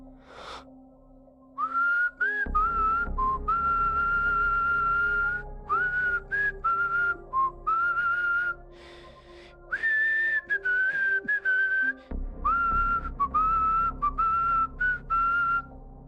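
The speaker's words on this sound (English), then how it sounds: "So I stood up and I started whistling." A person whistles a bright, melodic tune in sustained phrases with short pauses, alone and close, over a faint low hum.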